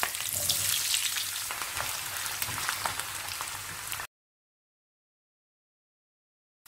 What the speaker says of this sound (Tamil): கொஞ்சம் எண்ணெய் சேர்த்துட்டு உருளைக்கிழங்கை பொரித்து எடுத்துக்கணும்.